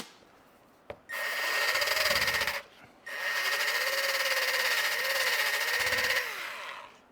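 Dry hand sanding of a Ford F-150 headlight lens with a stiff sandpaper pad: a loud, steady rasping scrub in two long passes with a brief pause between, close up and without talk.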